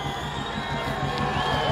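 Protest crowd in Melbourne cheering together, a steady dense wash of many voices with occasional whoops. The crowd noise holds at a constant level throughout and stays fairly close.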